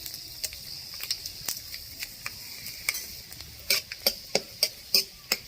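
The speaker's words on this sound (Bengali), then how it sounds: "তেল গরম হয়ে গেছে, কালো জিরে ফোড়ন দিয়ে দিলাম" Nigella seeds and halved dried red chillies crackle in hot oil, with a soft hiss beneath a run of sharp pops and spits that grow louder and more regular toward the end, close by and with no voices.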